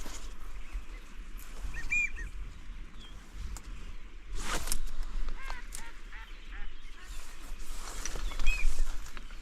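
Mallard ducks calling on a tiny creek during a duck hunt, with scattered faint quacks and honking calls at a distance over steady outdoor background noise.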